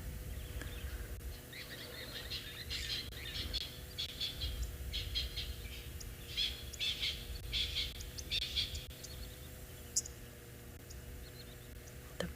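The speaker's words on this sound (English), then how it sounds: "Birds all of a sudden got a lot louder there" Birds chirping and calling on an afternoon South African safari, a cluster of bright tweets swelling louder through the middle and fading again, over steady low rumble of wind or a vehicle, with no talk.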